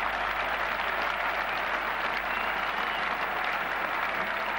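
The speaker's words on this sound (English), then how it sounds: "Applause, which is perhaps relieved from the dressing room balcony there." A cricket crowd at the 1993 NatWest Trophy final between Warwickshire and Sussex applauds a batsman's fifty, a steady, distant wash of clapping with no voices over it.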